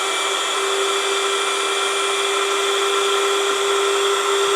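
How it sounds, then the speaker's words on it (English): A WEVAC vacuum storage system pump sucks the air out of a storage bag with a loud, steady, high-pitched whine that holds constant throughout, close up and with no talking. "let's turn it on and see what happens. It is sucking the air out of this bag."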